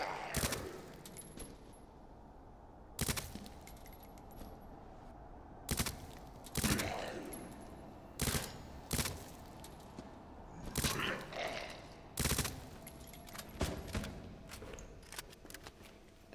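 Sharp gunshots fired at zombies in the Resident Evil 2 Remake video game, about a dozen separate loud cracks spaced irregularly over a low game ambience, with some quieter clicks and clatter in between.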